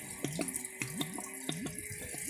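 Water gurgles and trickles in a 1974 American Standard Cadet toilet bowl as it refills after a flush, with repeated bubbling gulps about every half second over a steady running-water rush, close by.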